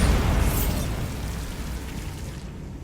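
A Bombarda spell blast from Hogwarts Legacy lands as a loud, booming explosion that rumbles and decays over a few seconds, close and heavy; no voices.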